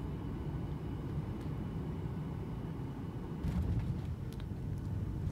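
A Ryanair Boeing 737 MAX lands, heard from inside the cabin as a steady low rumbling engine and air roar that swells slightly at touchdown, with faint rattles near the end and no talk.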